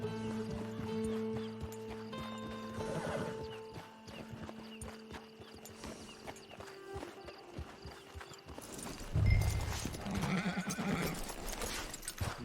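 Hooves clop on the ground in Red Dead Online as a horse moves along, with a whinny partway through; game music and ambient sound play underneath, with no talking.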